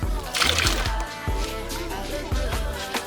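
Hair is washed in water, with close, repeated splashes and sloshing in uneven bursts and soft dripping in between.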